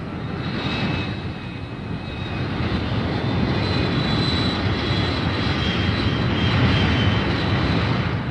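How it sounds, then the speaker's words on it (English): Military fighter bombers take off from an air base, a steady roaring engine wash with a thin whine on top, loud and sustained throughout. "Back at the base, the fighter bombers take off."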